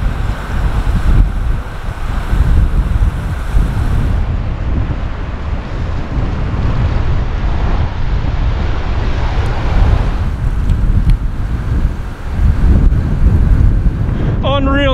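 A heavy headwind on a downhill bike descent from McClure Pass in Colorado roars and buffets the microphone loudly and continuously, with no speech.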